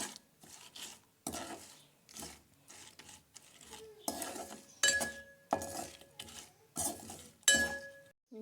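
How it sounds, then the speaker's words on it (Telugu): A utensil scrapes and clinks against a pan as fried broad beans are stirred into a tempering, a series of strokes each lasting under a second with short pauses between; no voices. "ఇప్పుడు ఇందులో మనం వేయించి పెట్టుకున్న చిక్కుళ్ళు వేసేసి కలిపేసుకుందాం"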